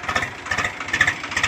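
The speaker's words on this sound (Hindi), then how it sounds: "ये देखिए ट्रैक्टर चल रहा है हमारे खेत में" A tractor engine runs in a farm field during maize sowing, a steady mid-pitched chugging hum with slight rhythmic pulsing, fairly close and continuous, with no one speaking.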